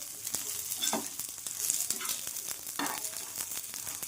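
Grated coconut roasts in a pan over a low gas flame, a steady close sizzle broken by occasional scraping stirs, moderately loud and with no voices.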